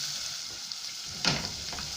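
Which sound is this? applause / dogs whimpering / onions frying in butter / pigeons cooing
onions frying in butter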